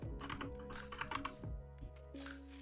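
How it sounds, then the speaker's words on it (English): Rapid, uneven clatter of keys on a computer keyboard while someone codes, heard close and steady with brief pauses and no voices. "I can't type on this keyboard."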